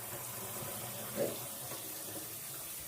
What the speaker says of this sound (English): And drain your potatoes. Try not to splash yourself with boiling water.